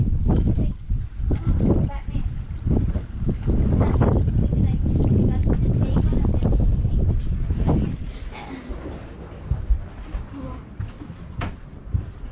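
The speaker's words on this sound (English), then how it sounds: "it's just very windy" Strong wind at sea on an Atlantic crossing roars and buffets steadily against the microphone, loud and close throughout, easing slightly toward the end with a few sharper gusts.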